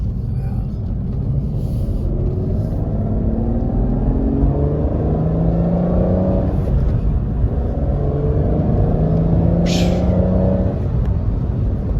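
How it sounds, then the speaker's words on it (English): A V12 Aston Martin DB9 with a six-speed manual gearbox, freshly fitted with new spark plugs and coils, runs with a steady deep exhaust drone and rising rev sweeps throughout, loud and close, while someone talks over it. "Absolutely beautiful exhaust note coming from that V12."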